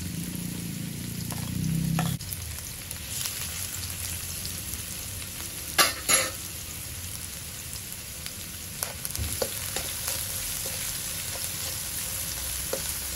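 Garlic and onion fry in a pan with a light, even sizzle; a low rumble fades after the first two seconds, then a couple of louder clatters and scattered stirring taps follow.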